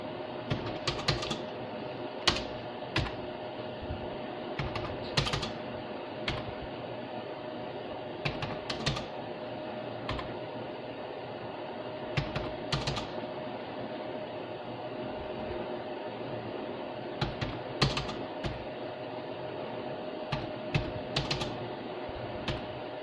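Numbers are keyed into an MS Excel spreadsheet on a computer keyboard: steady, fairly quiet clicking of keys in irregular bursts with occasional louder taps, over a constant low background hum and no talk.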